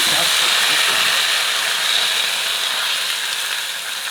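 Water poured into a hot pan of pan-fried chicken with scallion, ginger, garlic and dried chilies gives a loud, steady steaming hiss and sizzle that slowly fades, with a voice talking over it.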